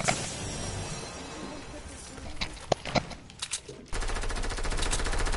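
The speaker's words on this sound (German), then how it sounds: "ich höre die ganze Schüsse" Enemy gunfire in a video game, with scattered sharp shots and bursts followed by a sustained rapid machine-gun stream, heard under and between players talking.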